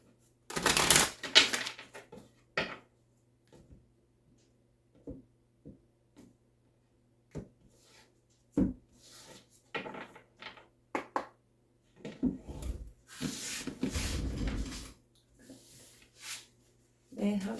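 Tarot cards are shuffled in short bursts of riffling and flicking, near and crisp, with a longer run of shuffling near the end and quiet gaps between.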